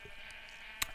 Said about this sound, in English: those sheep are so loud